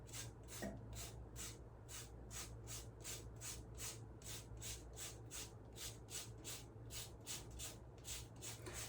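Yellow lemon peel being scraped on a fine microplane-style grater, a steady run of about twenty rhythmic rasping strokes, close and fairly quiet with no voices.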